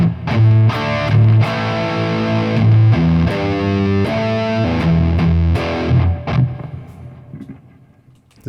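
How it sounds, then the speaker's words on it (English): A distorted electric guitar plays a chugging classic rock riff of power chords, driven in a steady one-and-two rhythm, loud and gritty, then rings out and fades near the end. "This distortion is a bit too nasty."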